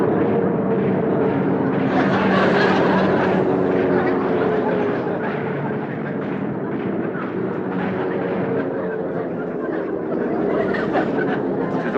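A single plane making a pass overhead in broad daylight, a loud, sustained engine drone that swells and holds, mixed with a rumbling backdrop and voices.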